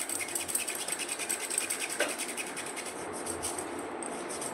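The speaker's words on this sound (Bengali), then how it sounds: "আমি এখানে একটু ব্রাশ দিয়ে জল দিয়ে এই জায়গাটা ভালো করে ঘষে নেব।" A brush scrubbing a stain on clothing with water and detergent, making a steady, close, rapid rasping and rubbing that continues without pause or talking.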